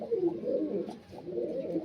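Kalaka pigeons of Andhra and other pure lines, kept for sale, give low continuous rolling coos from close by, swelling and fading in two bursts with a short dip between.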